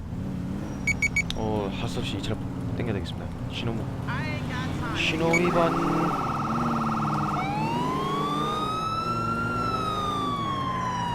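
A police car in GTA IV passes traffic with engine noise and short electronic chirps, then its siren rises into a loud, continuous sweeping wail that carries through the second half.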